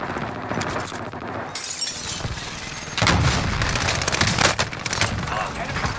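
Gunshots in Call of Duty: Warzone (Vanguard era), bursts of rapid fire and sharp cracks mixed with a speaking voice, growing louder partway through.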